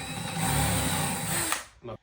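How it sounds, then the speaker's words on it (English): A power drill with a 5/8-inch bit whirs steadily into cedar wood for about a second and a half, then winds down, followed by a short burst of voice. "I got a 5/8 drill bit,"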